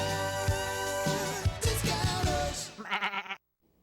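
Goats bleating in a holiday TV commercial, several loud wavering cries layered over music and jingles, then ending abruptly into near silence.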